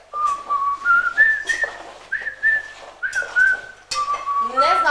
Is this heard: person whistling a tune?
yes